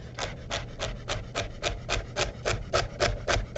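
A knife chops washed, trimmed celery on a wooden board in a steady run of about a dozen crisp, evenly spaced cuts, close and clear with no talking.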